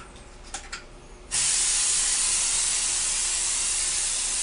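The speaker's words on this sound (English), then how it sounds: "you want to hold the sprayer completely level" A spray tan sprayer in a spray tan booth starts after a few quiet moments with faint clicks, then gives a loud, continuous, even hiss that runs steadily to the end.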